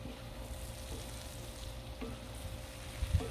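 Sausage scrapings being worked off a Blackstone griddle while fat sizzles and fries, a steady close crackle with a few faint scrapes and a brief louder knock near the end.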